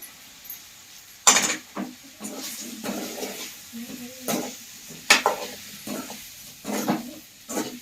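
Cut potatoes frying in a pan for potato sambar: a soft, steady sizzle punctuated by sharp scraping stirs of the spatula against the pan, with someone talking throughout.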